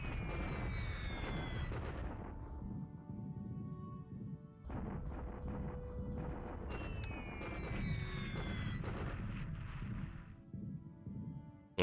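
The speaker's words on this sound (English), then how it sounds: "Now begins the the bombing over here." Aerial bombing of Pearl Harbor in War in the Pacific, repeated deep explosions and rumbling blasts in several bursts over about twelve seconds, loud and low, with no talk.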